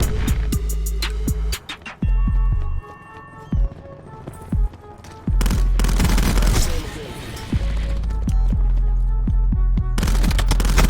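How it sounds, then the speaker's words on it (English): Rapid bursts of gunfire from a burst-fire weapon in the shooter game Call of Duty Black Ops 4, with loud repeated volleys, sharp impacts and game effects in quick succession, interrupted by brief pauses. "I forgot this thing's a burst gun"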